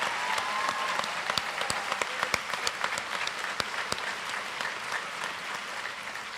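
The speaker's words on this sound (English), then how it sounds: "let's give all these athletes and coaches a round of applause" A crowd at a high school athletic banquet applauds the athletes and coaches. Steady clapping runs for several seconds with a few sharp, close individual claps standing out, and no talk over it.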